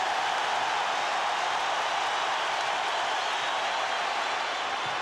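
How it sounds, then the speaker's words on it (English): A dense, steady wash of applause fills the arena as a basketball crowd claps through an NBA Finals game between the Lakers and Bulls, loud and unbroken for several seconds. "Crowd applauding the efforts by Pippen"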